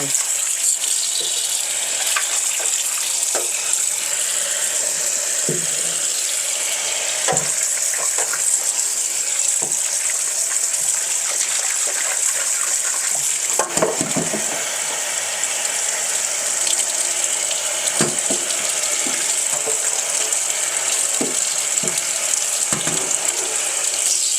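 Running tap water splashes steadily over an iron wok being washed to remove rust stains, with scattered clunks and scrapes of the metal against the sink throughout.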